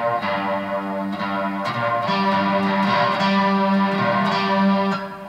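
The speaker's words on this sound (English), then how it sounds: "That's the sound of your middle string." A three-string cigar box guitar played with a gritty, effected tone, riffing on the low string and then moving to the middle string in a steady boogie rhythm, loud and close.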